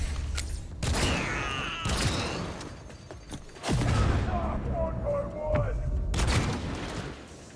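Gunfire in Cyberpunk 2077, several loud sharp shots and bursts scattered across the clip with booming impacts, a person talking in between.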